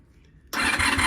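A Honda VFR400 NC30 motorcycle engine, with the choke open, catches abruptly halfway through and settles into a loud, steady idle after a quiet lead-in.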